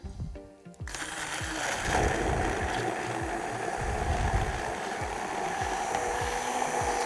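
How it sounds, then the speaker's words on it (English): An electric hand mixer purees corn with brown sugar for cornbread batter, a steady loud whirring drone with a chunky rattling churn that starts abruptly after a brief quiet moment and runs continuously. "we're just gonna puree that with our handy dandy mixer"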